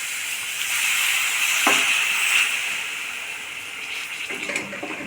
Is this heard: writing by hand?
no